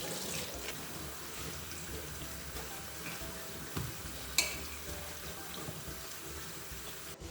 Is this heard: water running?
yes